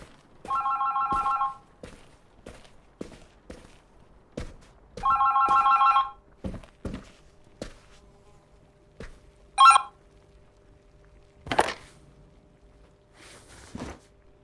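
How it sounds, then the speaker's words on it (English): An old-style telephone bell rings in two sharp bursts inside a Berlin apartment in the game The Berlin Apartment. Scattered clicks and knocks fall between and after the rings. "Oh, the phone."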